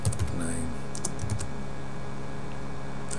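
Computer keyboard typing Pascal code, a quick burst of close key clicks at the start and a few more bursts later, with long quiet gaps over a steady background hum.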